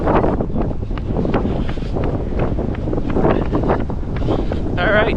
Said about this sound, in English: we have a windy and cold day today for sure